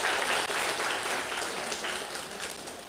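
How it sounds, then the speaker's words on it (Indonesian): Parents at a school open house clap together in a continuous wash of applause that starts strong and slowly tapers, heard from within the room. "boleh tepuk tangan Bapak dan Ibu sekalian"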